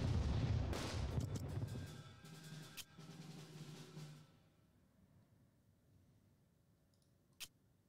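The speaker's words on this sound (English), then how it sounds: "Go ahead and bomb the troops in Kismayo" Explosions from bombing troops in the strategy video game Unity of Command II, a dense rumbling barrage of booms and blasts that gradually dies away into quiet, with one sharp click near the end.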